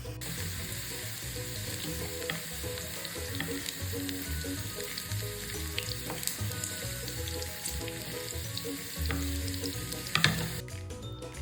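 Okra frying in oil crackles with a dense, continuous sizzle close by, dotted with small pops and the occasional scrape of stirring, one louder clack near the end.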